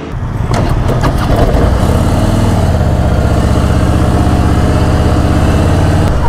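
Six motorcycles, including a Honda Africa Twin, idle loudly close by, a steady throbbing rumble with a few revs at the start, no voices.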